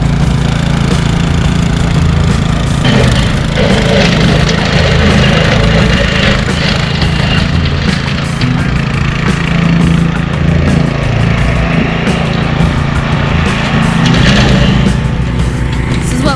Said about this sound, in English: Brush mower. Just takes the little stuff right down.